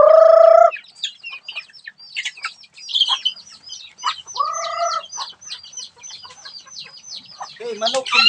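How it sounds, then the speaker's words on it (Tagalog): Native chickens clucking and a rooster calling on a farm, a series of close, busy clucks and squawks that continue throughout, with a louder crow-like call at the start. "Ito yung mga native natin na manok guys."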